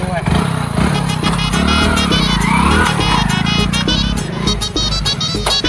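A motorcycle engine idles and revs nearby, its rumble running throughout while people talk over it.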